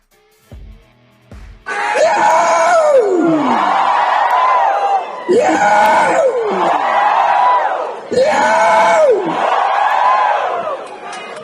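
A man imitates a Dayak tribal war cry, producing long, loud, wavering yells in several sustained bursts with brief breaks between them, close to the microphone.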